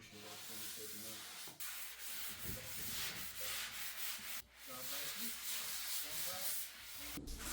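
Steady sanding rubs across chalk paint on an antique wooden dresser, a continuous close scratchy abrasion with brief pauses and shifts in stroke, and no voices.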